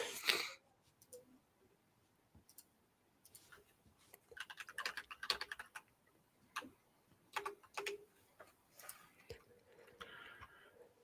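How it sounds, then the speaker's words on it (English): Intermittent clacky mechanical keyboard typing, bursts of sharp keystrokes with pauses between, fairly close and quiet, with a louder click at the start. "As we listen to William's mechanical clacky keyboard"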